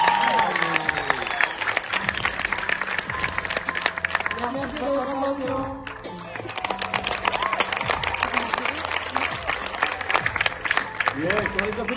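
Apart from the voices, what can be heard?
audience applause after a slam performance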